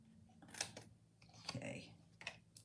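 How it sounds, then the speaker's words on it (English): Scissors trimming the bottom corners of a handmade fun-fold birthday greeting card, heard as a few quick, faint snips close by, with a quiet voice talking between them. "I'm going to trim the bottom corners."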